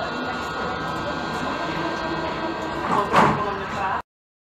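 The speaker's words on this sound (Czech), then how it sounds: "Dveře se zavírají." Doors of a Prague metro 81-71M car closing, with a steady hum of the car and a short rising burst of door motion and thud near the end, then an abrupt cutoff.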